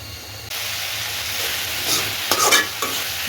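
Ridge gourd bhaji stir-fries in a pan: a steady hissing sizzle starts abruptly, then quick scraping stirs clatter close by toward the end, with no talking.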